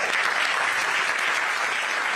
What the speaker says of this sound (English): Don't clap for me yet.